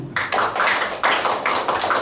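A church congregation claps in time at a fellowship service, a series of loud, rhythmic, fairly close claps landing in regular beats with no talk over them.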